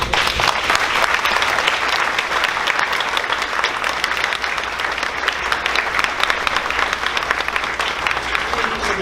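A crowd at a sixth-grade graduation ceremony gives loud, dense, sustained applause after students' names are read, a close, continuous roar of clapping with no pauses.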